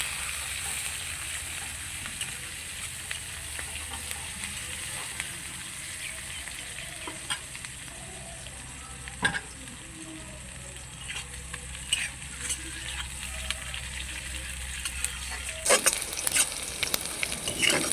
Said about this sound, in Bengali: এখানে একটা বড় সাইজের পেঁয়াজ কুচি আছে দিয়ে দিচ্ছি ফোড়নের সঙ্গে পেঁয়াজটাকে একটু লাল লাল করে ভেজে নেবো